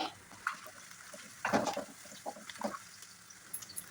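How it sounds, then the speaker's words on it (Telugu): Red chillies and curry leaves frying in hot oil for a red chilli fish curry, with intermittent crackles and spits and occasional stirring scrapes, fairly close and moderate in level, no voices. "నెక్స్ట్ ఎర్రమిరపకాయలు కూడా వేసేసుకుందాం కరివేపాకు కూడా వేసుకుని బ్రౌన్ కలర్ వచ్చే వరకు అన్నీ కలిపి వేయించేసుకుందాం"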